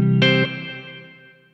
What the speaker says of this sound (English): Here's the Empress reverb by itself.